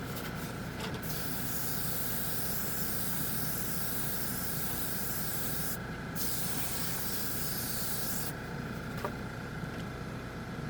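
A Dspiae no-wash airbrush spraying Tamiya paint, giving a continuous soft airy hiss with a couple of brief breaks, close but fairly quiet.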